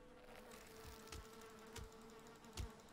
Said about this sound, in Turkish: Arılar bana saldırıyor.